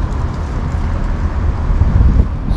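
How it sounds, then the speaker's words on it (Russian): Low, blustery rumble of wind buffeting the microphone outdoors in Lazarevskoye, Sochi, steady and loud throughout with no voices. "Ветер не дает мне снимать"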